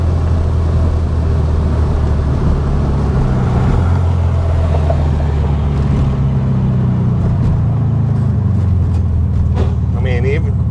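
A 1967 VW Beetle drives along, its air-cooled engine a loud, steady low rumble heard from inside the car with the drone shifting slightly as it goes, and someone talks over it.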